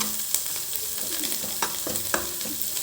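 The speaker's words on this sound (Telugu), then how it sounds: "అది కొంచెం ఇట్లా వేగనివ్వండి" Tempering with curry leaves frying in a pan for chicken iguru, a crackling sizzle with several sharp pops and stirring scrapes, close and unaccompanied by talk.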